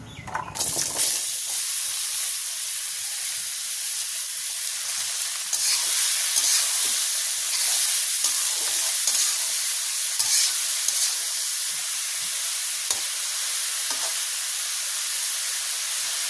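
Ingredients dropped into hot mustard oil set off a loud, steady sizzle and hiss that carries on close-up for the whole stretch, with occasional small pops and no talking.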